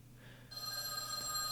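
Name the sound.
telephone ringing in a phone booth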